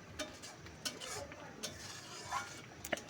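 Thick mango pulp being stirred in a pan as it reduces for aamsotto, giving soft scraping strokes and faint spatters at a low, close level, with no talk.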